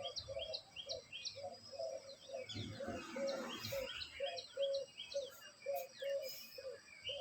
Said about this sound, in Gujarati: ચકલાનો અવાજ આવેલો